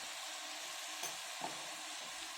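Turmeric and chili powder are stirred into a cauliflower cashew curry in a pan. A soft, steady sizzle runs throughout, broken by a couple of brief spoon scrapes.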